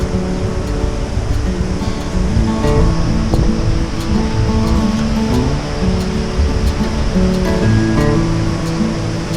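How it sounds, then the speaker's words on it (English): A big waterfall in California's Mother Lode gold country roars continuously and loudly, a dense broadband rush of falling water that holds steady throughout with no voices. "We're at the top of this big, huge waterfall here."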